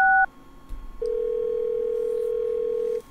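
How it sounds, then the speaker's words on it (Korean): A telephone line tone after dialing in the point-and-click game Thimbleweed Park: brief dual-tone beeps, then a steady, loud continuous tone held for about two seconds before cutting off, with no talk over it. "전화를 해봅시다."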